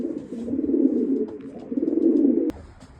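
Pigeons in a breeding loft coo softly and close by in low, throaty, rolling phrases, with two main bouts of cooing and a faint sharp tap near the end.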